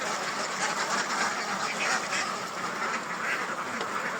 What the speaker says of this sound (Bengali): এই যে পুকুরে দেখুন কতগুলো হাঁস।